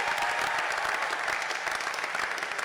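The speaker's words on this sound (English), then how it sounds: "Will everyone join me in a round of applause for our cheer team" Steady audience applause at a celebration for the FAU basketball team in Boca Raton, a dense sustained clapping from a large crowd throughout, loud and even.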